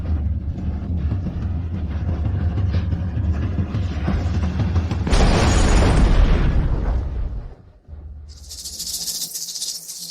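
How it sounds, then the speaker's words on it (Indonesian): A deep, rumbling blast swells and roars for several seconds, then fades into a lower rumble and a brief high hiss, with no voices. "Bahan peledaknya akan meledak."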